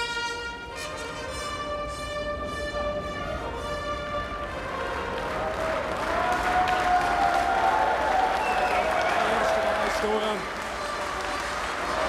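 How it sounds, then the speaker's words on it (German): Applause from a crowd at the Gotthard tunnel breakthrough celebration, steady clapping and cheering that swells slightly toward the middle and continues throughout, with voices mixed in. "Herzlichen Applaus!"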